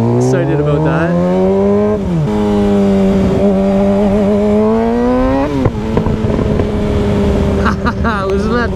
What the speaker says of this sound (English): Listen to that thing backfire. My bike is not tuned at all.